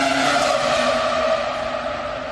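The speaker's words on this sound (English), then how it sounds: "There's just something about the sound of that V10 engine" A Renault R25 V10 Formula 1 engine on track, screaming at high revs in a sustained, loud, shrill tone that holds steady and fades only slightly.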